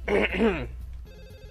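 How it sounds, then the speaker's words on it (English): A phone rings from a pocket in the visual novel Katawa Shoujo, a short electronic trill that follows a brief voice and lasts under half a second. "the ringing suddenly coming from my pocket"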